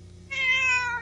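A house cat gives a single loud, drawn-out meow close by, rising sharply and holding for most of a second over a faint steady hum.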